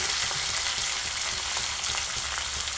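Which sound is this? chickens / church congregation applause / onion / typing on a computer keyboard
onion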